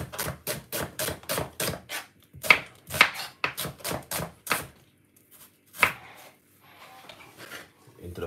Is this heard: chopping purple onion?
yes